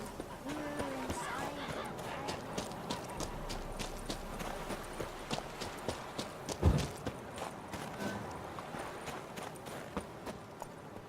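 Horse hooves clip-clop in a steady walking rhythm in a video game, regular close taps repeating throughout with one louder thump midway, while a character's voice speaks over them at times.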